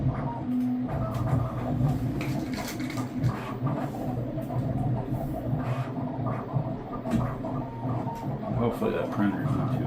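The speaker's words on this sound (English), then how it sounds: "Hopefully that printer's not too loud." A 3D printer runs with a steady mechanical whirr and layered motor hums, continuous and fairly loud, with faint voices murmuring in the background.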